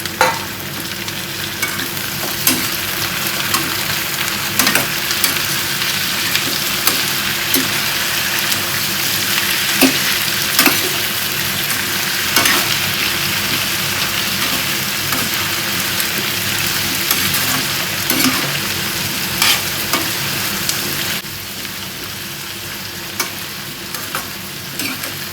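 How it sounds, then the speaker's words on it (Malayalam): Three chopped potatoes sautéing in a pan for a curry, a continuous loud sizzle with regular scraping stir strokes and occasional clicks of the spoon, no talking. "ഇനി ഇതിനകത്ത് ഒരു 3 കിഴങ്ങ് അരിഞ്ഞ് വെച്ചില്ലേ, അത് ഇട്ട് കൊടുക്കാം. ചെറുതായിട്ടൊന്ന് വഴന്നാൽ മതിയേ."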